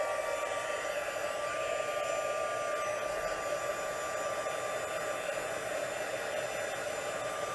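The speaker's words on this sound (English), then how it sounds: "This will go fast once my heat tool heats up." An embossing heat tool blows hot air in a constant, even whooshing roar with a faint high whine, steady throughout and unbroken by speech.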